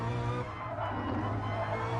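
A BMW race car in a sim racing game, a continuous droning engine note holding steady at moderate level for the whole stretch, with no talking.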